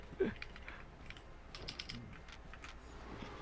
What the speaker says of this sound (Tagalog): rinig yung keyboard.